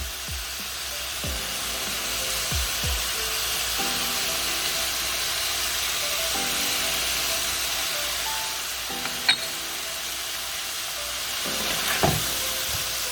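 Spiced beef strips sizzle steadily in a pan, a continuous frying hiss with occasional stirring clicks and scrapes, close and moderately loud with no talking.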